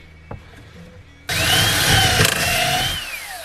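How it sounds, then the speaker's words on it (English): A power drill bores into a Bayliner 2455 boat and strikes a hidden screw, starting abruptly after a quiet moment and whining loudly and close for about two seconds before winding down. "The one place I decided to drill, I hit a screw."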